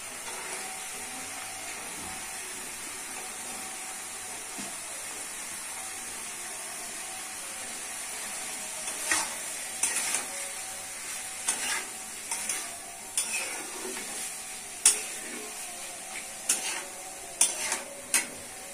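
Potatoes going into a sizzling, frying Bengali fish curry after the fish has been browned, with a steady crackling hiss and a run of sharp stirring clicks and taps later on, no voices.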